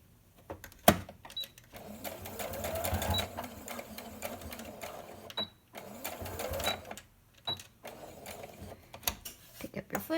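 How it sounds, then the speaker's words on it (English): A sewing machine stitches a fabric face mask up close, running in short bursts of rapid needle clatter with brief pauses between seams. "Now this part I'm not going to sew all the way down."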